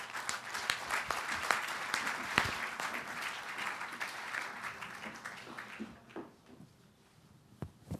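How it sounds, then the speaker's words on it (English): An audience at a climate and energy forum applauds panelists taking the stage, dense clapping that runs strongly for several seconds before thinning out to a few scattered claps. "If you could join me in welcoming them with a loud applause"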